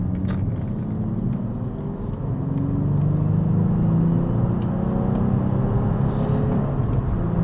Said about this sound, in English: I put it in a lower gear on purpose just to get the RPMs up.